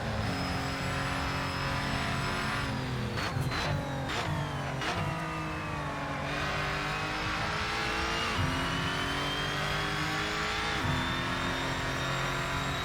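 A Lotus Evora GX racing around the Chang circuit in Assetto Corsa, its engine note loud and constant, climbing through the revs with short dips at gear changes and brief squeals in the first half.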